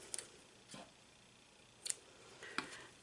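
Scissors snip a beaded bookmark cord, a few short crisp cuts spaced over about three seconds, close and fairly quiet with no talking.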